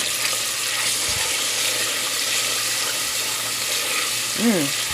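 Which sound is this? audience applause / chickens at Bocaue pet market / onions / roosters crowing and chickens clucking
onions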